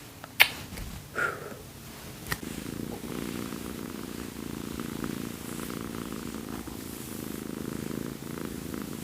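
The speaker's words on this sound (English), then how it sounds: "The kitty is purring. She's purring." A cat purrs steadily and close up for several seconds, a soft continuous rumble after a few brief handling noises at the start.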